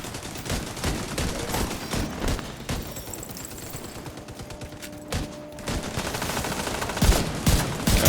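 Sustained gunfire in The Division 2 Warlords of New York during a heroic mission, with rapid automatic bursts and repeated shots layered over a busy combat backdrop, fairly loud and continuous.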